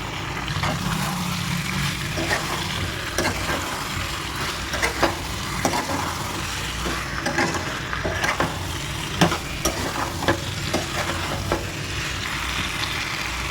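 Potato, tomato, cauliflower and coriander leaves stir-fried in a pan for a cauliflower-potato fish curry: a steady, close sizzle throughout, with repeated clicking and scraping strokes of the spoon.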